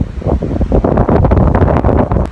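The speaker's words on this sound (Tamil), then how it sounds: "அதை விட இந்த காத்திர சத்தம் அவ்வளோ பயங்கரமாகிக்குது" Strong wind roars and buffets the microphone during a snowstorm on the mountain top at Hatale Mini World's End, loud and continuous with gusty rises and no speech.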